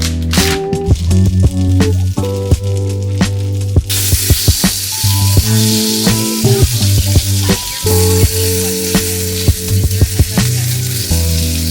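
Eggs and sausage for breakfast fry loudly in a pan, a continuous close sizzle broken by frequent scraping and clattering as the food is turned and stirred.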